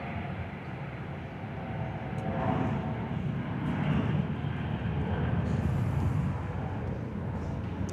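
A jet airliner on a long-haul service from Heathrow comes in to land on runway 21 at Perth airport, a distant, steady broadband roar that gradually swells and holds, heard outdoors with no talking.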